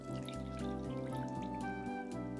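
Water pours steadily into a pot holding cut ginger and cane sugar, a faint continuous splashing trickle heard alone.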